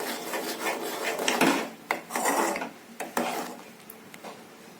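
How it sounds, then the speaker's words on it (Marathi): A spoon scrapes and rubs around a pot of masala milk with turmeric, a few close, rasping strokes with short pauses between them and no talking. "हे व्यवस्थित हलवून घ्यायचंय।"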